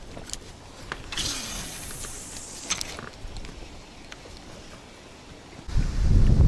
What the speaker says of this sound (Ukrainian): Ну вітрюган такий, що я не можу на лодці втриматися